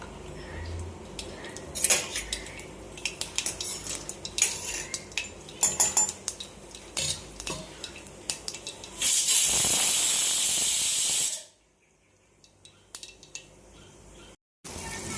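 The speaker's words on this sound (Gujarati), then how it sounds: "આપણે જીરું, ટામેટાં, લીલા મરચાંનો વઘાર કરી દીધો છે" Mustard seeds, cumin, tomatoes and green chillies tempered in hot oil for a Gujarati thali give scattered clinks and pops, then a loud burst of sizzling hiss lasts about two seconds before cutting off abruptly.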